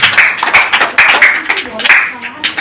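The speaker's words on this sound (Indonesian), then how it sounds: "Tepuk tangan sekali lagi, Masya Allah." Audience at a youth religious talk claps in quick, close, fairly loud bursts, with voices audible through the clapping.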